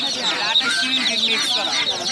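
Chickens at a village poultry, duck and pigeon market cluck close by in a continuous excited chorus of short overlapping calls.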